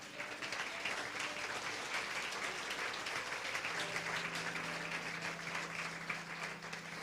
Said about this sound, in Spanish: Entonces den un fuerte aplauso a Jesús.